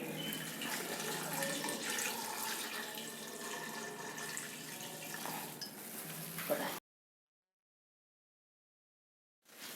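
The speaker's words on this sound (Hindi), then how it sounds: "जितना गोश्त है उसके बराबर हम पानी डाल देंगे।" Water runs steadily into a pot of beef being cooked for karahi, a continuous close pouring wash lasting several seconds before cutting to silence, with a brief return at the very end.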